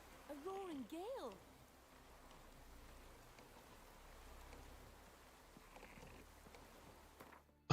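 Rain falling in The Witcher 3: Wild Hunt, a soft steady hiss of downpour with faint gusts, someone speaking briefly over it at the start.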